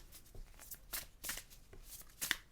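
Oracle cards are shuffled by hand in quick riffling bursts, a close, quiet papery flutter in uneven pulses, with no talking.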